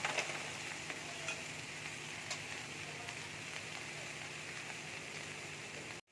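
Lentil dumplings (bori) frying in a pan, giving a steady, even sizzle that holds at a constant level throughout with faint stirring clicks, then cuts off abruptly at the end.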